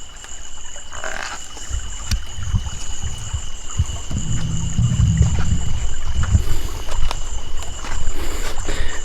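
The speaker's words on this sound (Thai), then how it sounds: "นี่เสียงลม" Steady wind rushes and rumbles outdoors in a forest ahead of a storm, gusting unevenly, with a constant high insect-like drone running throughout.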